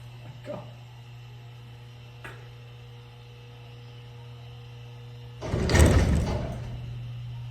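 A 1976 Westinghouse freight elevator door slides open with a loud rumbling rush near the end, after a couple of faint clicks, over a steady low electrical hum.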